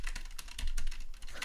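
Keys on a Polyend Tracker are tapped in quick, irregular clicks, close and fairly quiet, with no voice present.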